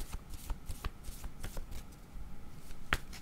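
Tarot cards shuffled by hand in a few quick riffling bursts, close and soft, ending with a sharp tap of the deck.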